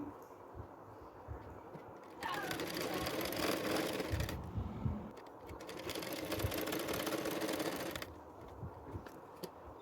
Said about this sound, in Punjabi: ਇੱਕੋ ਸਾਈਡ ਦੇ ਕੋਰਨਰ ਨੂੰ ਆਪਾਂ ਸਿਲਾਈ ਲਗਾਵਾਂਗੇ ਇਦਾਂ